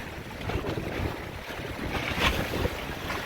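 Wind blows hard over a sailing boat at sea, giving a steady broadband roar with gusty buffeting on the microphone and water rushing past the hull. The sound stays close and fairly loud, with no voices.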